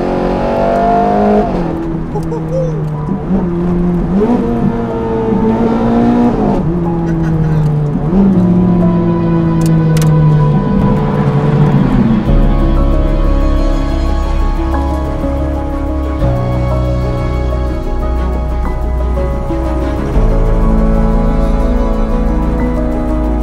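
A Ferrari 430 Scuderia fitted with a stainless steel exhaust silencer revs hard and accelerates loudly through repeated gear shifts, then settles into a deep sustained drone, close and dominant throughout.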